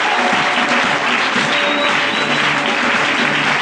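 A church congregation at an evening convention service applauds the Lord, producing dense, sustained clapping that stays loud and even throughout.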